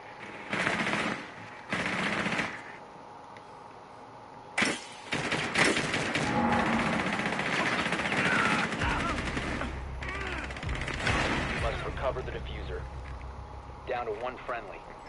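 Blasts from shotguns in Rainbow Six Siege on PS5, a few sharp, loud reports spaced apart early on, then a busier stretch of game noise and rumble with someone talking over it.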